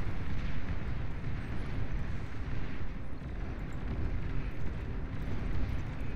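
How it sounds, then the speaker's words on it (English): Commander unit blowing up in the real-time strategy game Beyond All Reason, a dense, steady roar of explosion rumble filling the whole stretch with heavy low-end energy and no clear separate blasts. "nice explosion from the orange commander, trying to save himself from the wrath here of the green commander"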